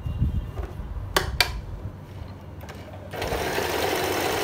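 An Usha electric sewing machine stitching, a steady close mechanical whirr with a few sharp clicks near the start, then picking up into a louder, brighter continuous run for the final second or so.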